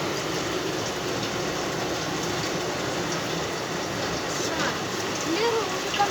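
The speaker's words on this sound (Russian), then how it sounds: "Ой, дождик." Heavy rain falls as a constant dense hiss, even and unbroken, with no distinct drops or thunder standing out.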